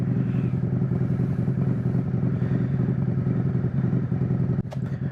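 A 2020 Harley-Davidson Road Glide Special with a Stage II S&S 475 cam revs loud and close, its deep, lumpy idle throbbing steadily before dipping near the end.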